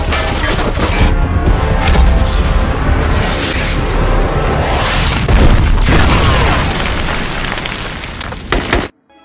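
A grenade explodes in an action-film fight scene, a loud sustained boom with crashing debris and rumbling roar filling several seconds before cutting abruptly to silence.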